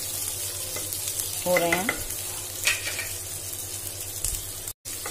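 Onions frying in a pan until light brown, a steady loud sizzle with stirring scrapes and a short spoken phrase, cut off by a brief dropout near the end.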